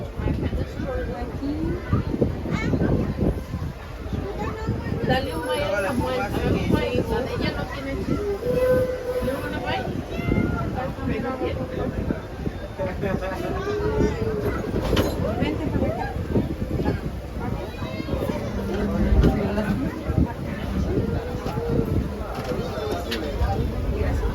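The Disneyland Railroad train rumbles and clatters along the tracks while voices talk over it, with a busy, crowded background.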